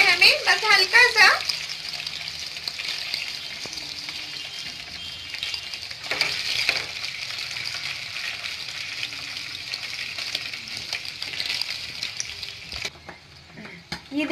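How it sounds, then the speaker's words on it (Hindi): Paneer cubes fry lightly in a pan for palak paneer, giving an even, continuous sizzle and hiss. A voice is heard briefly near the start, and the sizzling quiets toward the end. "बस इसे हल्का सा ही फ्राई करना था।"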